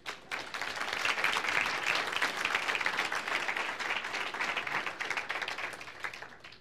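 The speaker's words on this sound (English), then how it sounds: "please give our workforce a round of applause" A room full of seminar attendees gives a round of applause to the workforce at the close of the red bead experiment, a dense, even crackle of many hands that swells quickly, holds steady and tapers off at the end.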